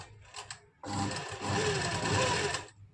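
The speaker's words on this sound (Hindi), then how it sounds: "इसके ऊपर ऊपर हम यहाँ पर छोटे टांके की सिलाई लगा देंगे" A sewing machine runs small stitches along a lined kurti's neckline, a steady close whirring burst of about two seconds following a brief start.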